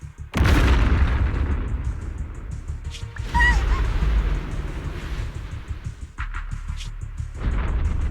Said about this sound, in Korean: 비행선이 추락하고 있어.